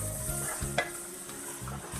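Chopped tomato and onion sizzle in a pan for chicken thoran while a spoon scrapes and stirs in several distinct strokes, the frying hiss steady underneath and close.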